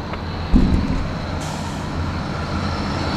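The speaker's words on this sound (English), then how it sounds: "Loud truck." A loud truck with air brakes passes on a city street in St. Louis, Missouri. It gives a sharp burst near the start, then a steady heavy engine roar and road noise that holds throughout.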